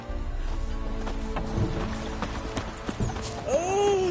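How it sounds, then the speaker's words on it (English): Hooves of the horse Roach clip-clop in The Witcher 3, with a short whinny toward the end, all set against a steady game soundscape. "Where'd you come from? Come on, Roach."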